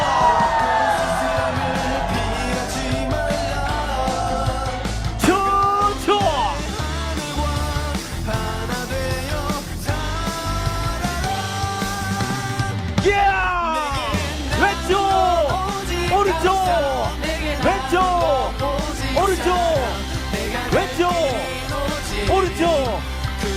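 A large crowd at an outdoor peace rally raises a sustained roar of shouts and cheers, continuous and loud throughout, with rising whoops and yells layered over the mass of voices.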